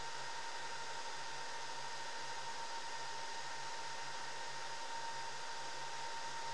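An Antminer test fixture for S17 hash boards runs its self-test, giving off a steady, fairly quiet fan-like whir with a faint constant hum that holds unchanged throughout.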